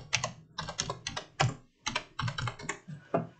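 Close, quick keystrokes on a computer keyboard come in uneven bursts as an Aadhaar number is entered, with brief pauses between clusters of clicks and no voices.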